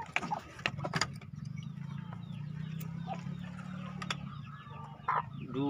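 Laying hens cluck in short, scattered calls over a low, steady background hum, with a few sharp knocks and rustles in between.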